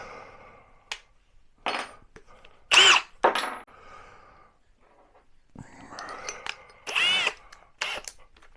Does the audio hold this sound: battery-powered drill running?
yes